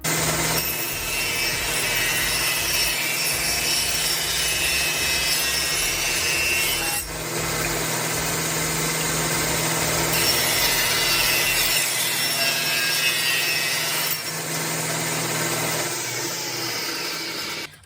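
A power tool cuts a rabbet along a wooden furring strip, a loud, continuous rasping roar that holds for the whole run, with two short breaks in its texture.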